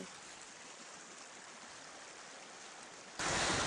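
Water rushes steadily down a flooded hiking path in Torres del Paine, Chile, a loud continuous broadband wash that jumps even louder near the end, no voices present.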